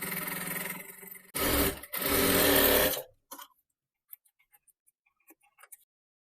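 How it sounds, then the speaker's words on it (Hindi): A sewing machine stitches the neckline of an Angrakha Anarkali dress, with two short motor bursts one after the other and a brief pause between them, followed by faint scattered ticks and handling clicks. "पेपर पेस्टिंग को अंदर की तरफ आपको रख के सिलाई लगा देना है।"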